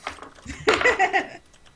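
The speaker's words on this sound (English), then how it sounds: "It sounds like you type very hard too." Someone types hard on a computer keyboard, a short cluster of sharp, loud key strikes close to the microphone in a quiet room.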